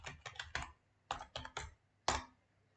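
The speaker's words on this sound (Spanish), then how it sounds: "Seguro que se oye mucho el teclado." Computer keyboard typing during an online class, about ten crisp key clicks arriving in short bursts with pauses between, close to the microphone and alone.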